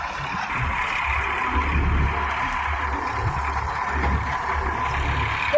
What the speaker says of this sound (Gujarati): અરે હમણાંથી આવે ટ્રેક્ટર.